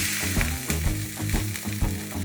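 Beef for beef Wellington searing in hot oil in a pan, each side seared under a minute, giving a loud, steady close-up sizzle with rhythmic pulses from the meat being moved, with no talking.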